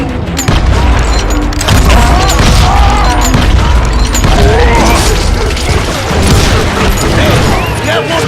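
Gunfire and explosions in the western game Call of Juarez: Gunslinger, a loud, dense mix of shots, booms and crashes that runs throughout. Shouting voices cut through the noise.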